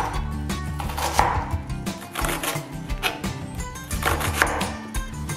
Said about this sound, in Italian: Tritiamo le nostre cipolle.